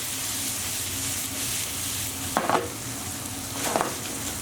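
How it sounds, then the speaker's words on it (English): Pine nuts being stirred through a lamb filling in a pan, with a steady low sizzle and two short scraping stirs near the end, fairly close and with no talk. "at this stage we'll add in our pine nuts back in, and we'll just mix that through"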